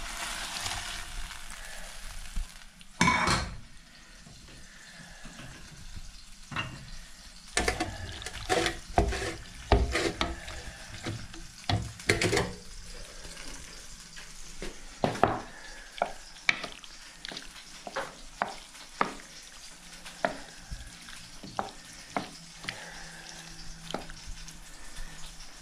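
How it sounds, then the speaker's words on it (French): Bacon lardons sizzle in a pan as they are stirred together with mushrooms, with scraping utensil clatters and steady frying hiss running throughout. "je vais mélanger mes lardons saisis avec mes champignons"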